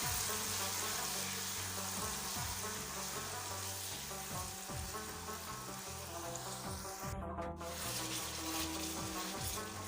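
Tomatoes cooking in a pan of oil for aloo palak, a loud continuous sizzle with rhythmic stirring scrapes of a spoon against the pan.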